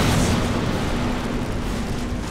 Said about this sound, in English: Did you just explode Anthony?